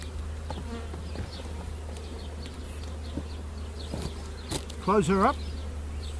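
Honey bees from a hive being split into a nucleus colony buzz steadily and close throughout, with a short spoken remark over the hum near the end.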